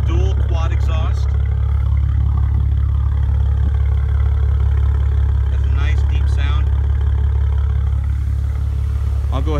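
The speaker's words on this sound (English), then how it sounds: "Now let's check out the exhaust." A deep, steady exhaust rumble from an idling Maserati Ghibli S Q4 with dual quad exhaust fills the whole clip, with a person talking briefly over it.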